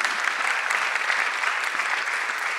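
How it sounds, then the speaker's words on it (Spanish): A seated audience at a book presentation breaks into steady, sustained applause welcoming a woman scientist, a dense even wash of clapping heard alone at moderate distance. "Recibamos por favor con un fuerte aplauso a la doctora Lucía Montes Ortiz."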